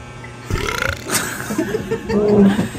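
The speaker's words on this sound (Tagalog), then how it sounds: "Dighay, di ba?" A person lets out a long, rumbling burp after taking a shot of liquor, rough and close, with faint chuckling and voices around it.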